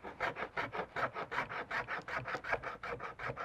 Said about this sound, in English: we're just going to clean up the edges before we trial fit it